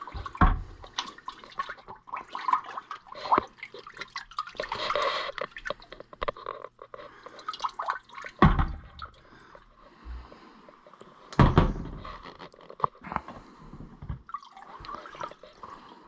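Water rinses a whitish Evapo-Rust film off Allis-Chalmers WD tractor parts, including a carburetor, bare metal now showing; an uneven splashing and spattering runs throughout, close by, with a few louder bursts.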